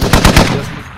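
Rapid burst of heavy .50 cal machine gun fire in the military shooter game Squad, four or five loud booming shots in quick rhythm with a ringing tail fading out, no talk.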